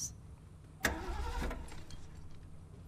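A car engine in the video game The Last of Us, push-started on a dead battery, cranks and catches with a sharp burst, then drops to a quiet, steady idle; fairly faint overall.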